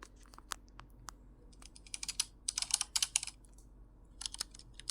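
Keyboard typing from a CapCut sound-effect library: rapid clattering key clicks in uneven bursts, thickening into a dense flurry midway, then thinning to scattered taps, with no voices.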